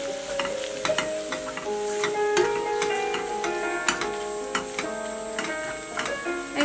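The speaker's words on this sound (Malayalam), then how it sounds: "മല്ലിപ്പൊടിയും ഇതുപോലെ തന്നെ നന്നായിട്ട് വഴറ്റിയെടുക്കുക." Coriander powder sautés in a pan with onions for egg masala filling, a soft sizzle under quick, ticking scrapes of a spoon against the pan, close and fairly steady, with no one talking.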